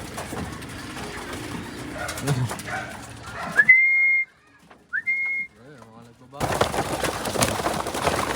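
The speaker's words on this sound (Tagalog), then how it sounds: "Grabe, daming kalapate." Racing pigeons at a first-lap derby race release in San Narciso, with bird calls and flapping over busy outdoor crowd noise; a short quiet gap holds a few clear whistled notes before the bustle and voices return.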